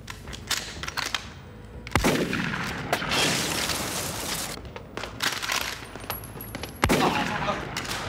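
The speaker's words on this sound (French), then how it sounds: "Il vient d'y avoir des coups de feu." Several sharp gunshots crack out at irregular intervals, loud and close, amid a noisy, chaotic background.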